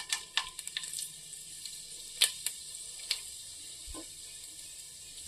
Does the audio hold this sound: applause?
no